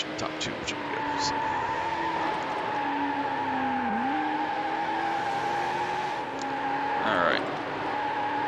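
Race cars in the Need for Speed Hot Pursuit 2 championship events hold a loud, steady engine drone, broken by a sharp tire squeal near the end as a car skids through a corner; someone says a few words briefly.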